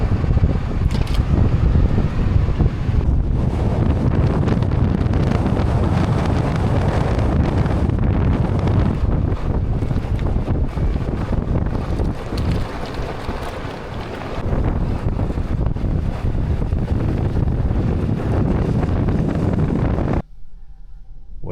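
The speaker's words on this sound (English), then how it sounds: "it's super windy" Strong wind buffets the microphone in a dusty Alaskan river valley, a loud continuous roaring rumble with gusts throughout that cuts off abruptly near the end.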